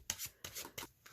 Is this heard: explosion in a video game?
no